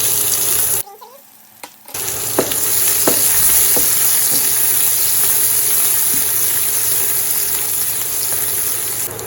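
Onions, cashews, almonds and cardamom fry in a pan for a shahi paneer base, a steady loud sizzle with scattered clicks and taps of stirring; the sizzle briefly dips near the start before returning, no talking.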